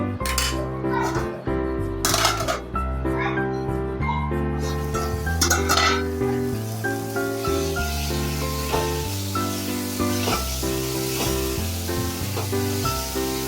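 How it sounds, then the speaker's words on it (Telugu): Medium tomatoes and cucumber pieces simmering in a pan for a masala-free curry, stirred with a utensil, giving soft sizzling, scraping and occasional metallic clinks, with music playing prominently over it. "అవి ఒకసారి కలపాలండి, లేకపోతే కింద మాడుతుంది."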